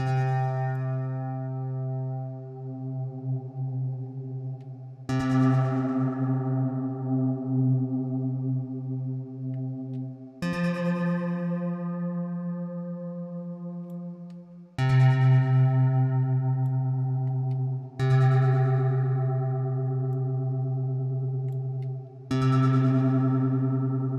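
Synth notes run through the Valhalla Supermassive reverb plugin with modulation: six sustained harmonic tones, each struck and then swelling into a long, wavering, shimmering tail before the next begins, with no voices.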